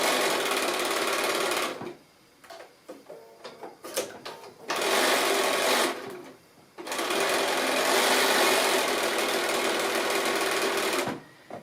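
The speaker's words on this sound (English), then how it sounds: "I'm just going to stitch that all on." Sewing machine stitching small fabric pieces for a pocket tissue pouch at a 1/4 inch seam allowance, three loud, steady whirring runs separated by short pauses with faint handling noises.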